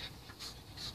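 A pet dog pants close by in an indoor home office, soft rapid breaths repeating in short bursts with a steady, quiet rhythm and no voices.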